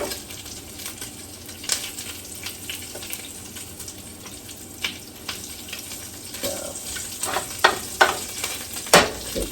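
Bacon crisping in a pan at breakfast, a steady close sizzle and spatter with occasional sharper pops and utensil scrapes, no voices.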